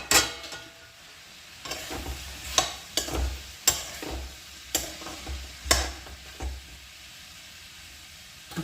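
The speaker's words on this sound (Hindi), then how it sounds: "बस छोंक दी है सब्ज़ी।" Vegetables sizzle in a pan just after tempering with spices, a continuous frying hiss broken by several sharp scraping and clattering stirs spaced irregularly, close and moderately loud.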